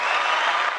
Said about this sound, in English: Applause there. That's the only button I have today.